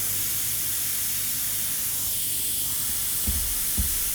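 An airbrush sprays paint through a stencil onto a skull design, giving a steady, soft hiss that runs throughout, with two brief knocks near the end.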